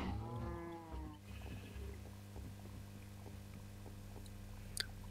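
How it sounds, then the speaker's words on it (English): Minecraft cows from the FTB Expert SkyBlock modpack: a single drawn-out moo opens the clip, followed by soft repeated thuds and a quiet steady background hum. "A lot of cows."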